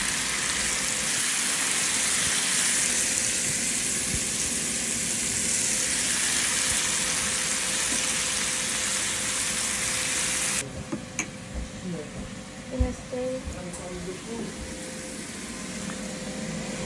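Steak frying in a pan gives a loud, dense, continuous sizzle up close for about ten seconds. Then it drops to a quieter crackle with a few scattered pops and knocks.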